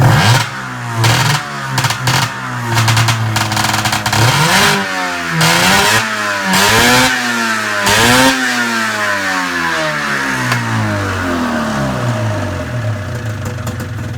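A rebuilt Arctic Cat ZR 440 snowmobile engine blips and revs repeatedly, pitch sweeping up and down between throttle stabs, then settles into a high, steady drone, loud and close.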